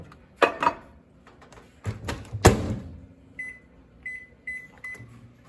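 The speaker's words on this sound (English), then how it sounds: "I'm microwaving this for 3 minutes covered." A microwave oven heats covered rice for a lemon rice dish, with a few door and handling thumps up close, then a steady hum and a run of short electronic beeps.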